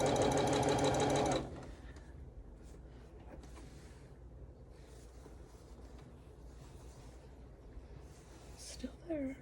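A sewing machine runs a long strip of fabric for a calico snails table runner, a steady, loud mechanical whir that stops abruptly after about a second and a half, leaving quiet room noise with faint talk.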